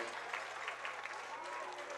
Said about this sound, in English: receiving a hearty round of applause from both sets of fans